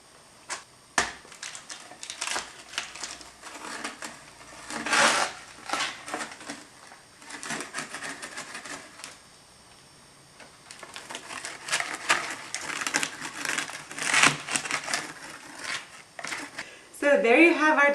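Matzah brittle being cut into pieces for Passover: repeated crisp cracking and snapping bursts of the brittle slab, irregular and close, with quiet gaps between cuts and a clatter near the end.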